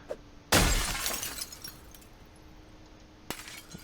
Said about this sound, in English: We're going to try smashing the window.